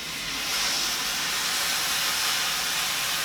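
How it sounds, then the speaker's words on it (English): Coconut milk poured into a hot pan while cooking a Filipino crab claw dish: a loud, continuous steamy hiss and sizzle that holds steady for several seconds, close by, with no talking. "the next thing we want to do is add some coconut milk"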